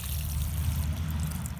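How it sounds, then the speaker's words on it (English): Water poured onto soil around newly planted vegetables in a garden bed, a steady low trickling and splashing that runs continuously and fairly close throughout. "now we'll just water it in."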